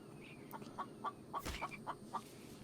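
A chicken in the video game The Infected clucks in a string of short, soft, evenly spaced calls, faint and close, with a brief rustling thump in the middle.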